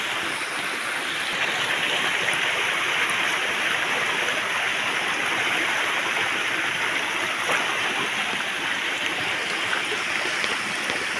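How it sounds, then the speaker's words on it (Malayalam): A small stream in a cleared rubber plantation flows with a steady, even rush of water that holds close and constant throughout, with no voices. "തോട് വേണ്ട, ചെറിയ തോടാണ്, കൈത്തോട്."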